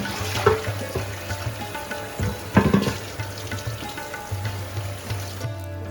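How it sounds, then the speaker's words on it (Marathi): Water splashes and runs steadily from a tap, with brief louder gushes and clattering as small deity idols are rinsed under the stream. "मी घासून डायरेक्ट नळाखाली स्वच्छ सेपरेट पाण्याने हे स्वच्छ करून घेते देव"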